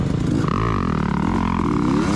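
A motocross motorcycle engine revs continuously at Washougal MX Park during an amateur race lap, a loud, sustained buzzing drone with rising and falling pitch while the bike sits held up behind slower riders.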